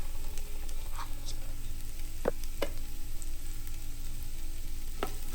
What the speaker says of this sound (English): Then we're going to add our chopped up carrots and our celery.